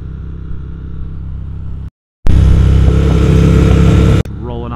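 A 2022 Triumph Speed Twin motorcycle rolls on in second gear, its engine note rising loud and close through the middle after a short silent gap, bracketed by steadier engine sound before and after.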